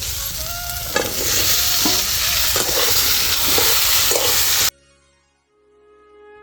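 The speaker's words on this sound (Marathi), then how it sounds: "भेंड्या चांगले परतून घेतलेले" Okra sizzles steadily as it is sautéed and stirred in a pan with a spice tempering, with soft scrapes and clinks of the spoon over the frying hiss, before the sound cuts to near silence.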